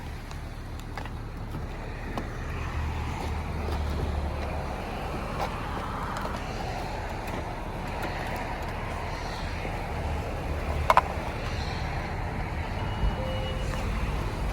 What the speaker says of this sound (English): I hope it's not too loud. I'm kind of right next to the highway.